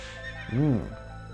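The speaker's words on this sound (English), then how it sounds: "It's a kid on a horse." A horse in Castlevania 64 lets out one loud, close neigh with a rising and falling whinny, while hooves clop faintly through the game's low ambient drone.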